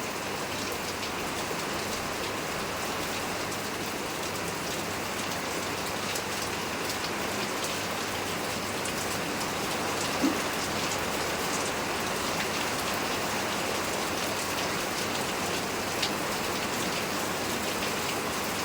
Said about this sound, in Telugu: బయట అయితే వర్షం బాగా పడిపోతుందండి